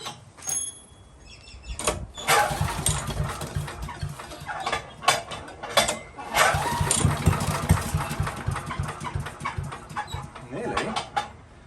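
MTD chipper shredder engine being pull-started at full throttle and full choke: several sharp pull-cord bursts followed by rough, uneven mechanical running, close and fairly loud, with voices talking around it.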